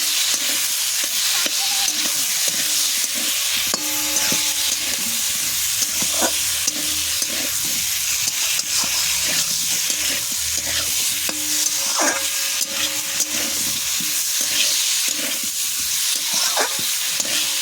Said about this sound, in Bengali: দিয়ে দিচ্ছি ফুলকপিটা দিয়ে কষাবো